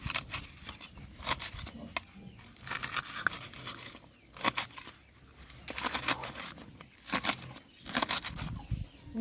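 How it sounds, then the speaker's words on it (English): Scallions being cut up for a red peas soup with cow skin and chicken foot, heard as a string of crisp snipping and crunching cuts in irregular bursts, close by with no voices. "Cut up the scallion."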